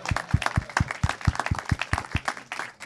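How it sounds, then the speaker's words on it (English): A small audience claps at a talk, a sparse, fairly quiet round of individual claps in a steady rhythm lasting a few seconds. "a round of applause"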